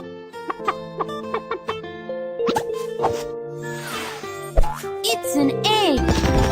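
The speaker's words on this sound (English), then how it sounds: "Click the hen to have it lay an egg." A cartoon hen lays an egg in a children's farm video game, with bright plopping and boing-like effects over cheerful game music, ending in a rising jingle.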